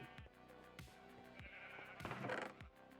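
Sheep bleats in a video game, several short wavering calls spaced through the clip over steady game background sound, fairly close and clear.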